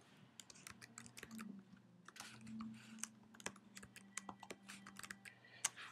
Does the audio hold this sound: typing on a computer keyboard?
yes